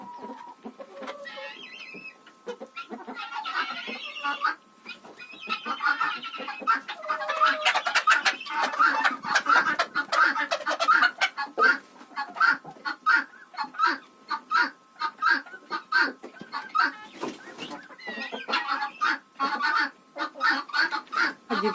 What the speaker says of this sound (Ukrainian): Це курочка бентамка.